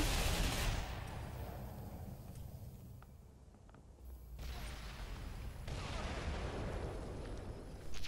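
In the online shooter Ghost Recon Online, a grenade goes off with a broad, booming blast followed by a long rumbling wash of noise and a second swell, moderately loud with no talk over it.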